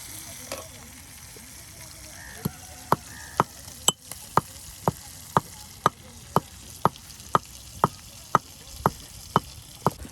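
Meat fries crisp in a pan under a soft background hiss, while a sharp tapping repeats at a steady pace, roughly twice a second, clear and close, with no voices.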